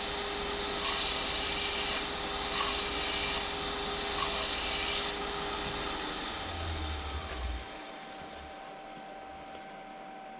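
A wooden bowl spins on a lathe while being sanded, giving a steady close rasping rub with a constant motor hum that eases off after about five seconds as the spinning winds down.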